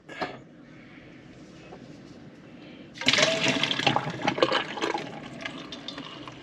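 Boiled fiddleheads are strained from a pot, and water pours out in a loud, rushing splash that starts suddenly after a quiet stretch and continues turbulently for several seconds.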